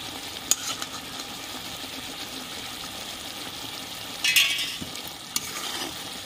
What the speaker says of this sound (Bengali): সামান্য একটু ঘি দিয়ে দিচ্ছি।